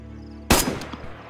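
A single loud, sharp sniper rifle shot fired at a bear in DayZ, a sudden close crack followed by a short echoing tail.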